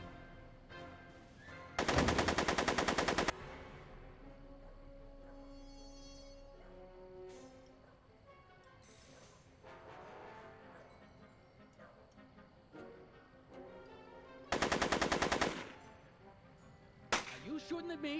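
Two loud, sustained bursts of rapid gunfire from the Back to the Future video game, one early and one near the end, set against quieter game music and ambience.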